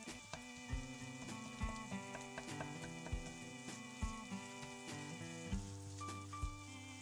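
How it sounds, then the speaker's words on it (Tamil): Egg and chopped vegetables stir-fried together in a pan for egg fried rice, a steady crackling sizzle with soft scraping and stirring knocks at a regular pace, close and alone with no talk. "முட்டையும் காய்கறியும் இப்போ ஒன்றா சேர்த்து நம்ம கலக்கிட்டோம்"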